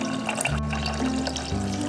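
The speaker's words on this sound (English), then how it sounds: "Let's add water to this." Water pouring steadily into a pot of pre-rinsed brown rice on a home kitchen stove, a continuous close splashing wash that deepens slightly in tone as the pot fills, with no talking.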